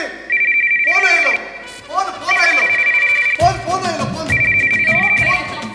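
A mobile phone ringtone plays loudly in repeated bursts during a Konkani comedy stage performance, a bright looping melody recurring three times with crowd or voice sounds mixed in between.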